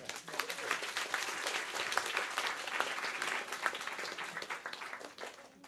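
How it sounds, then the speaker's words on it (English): An audience at a school classroom presentation gives a steady round of applause, dense clapping that holds for several seconds before tapering off at a moderate distance. "A round of applause for Abby"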